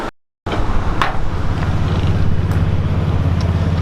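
A Hemi engine idles close by with a steady low rumbling throb after a brief silent gap, loud and even, with no talk.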